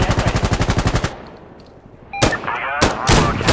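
Aircraft gun run in a video game: a rapid, loud burst of automatic cannon fire lasting about a second, then a short lull and several heavy, booming impacts or blasts.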